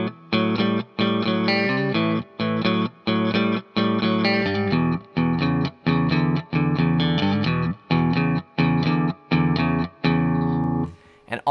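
Electric guitar plays bars five through eight of a blues shuffle, a steady pulsing pattern of evenly spaced chord stabs, close and clean, fading at the end.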